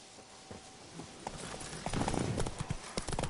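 Horse hooves clip-clopping in the video game The Witcher 3: Blood and Wine, a quick rhythmic trot growing louder and nearer over a few seconds.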